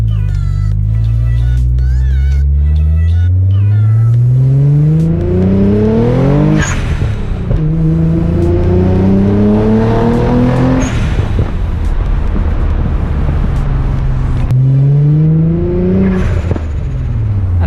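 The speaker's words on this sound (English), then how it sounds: "Backfire." A 600 hp Nissan 300ZX Z32 revs hard and pops with backfires, loud close engine roar climbing in repeated pulls with sharp cracks between gear changes.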